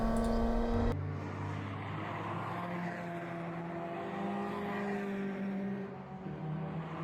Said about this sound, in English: backfiring as he comes up the front straight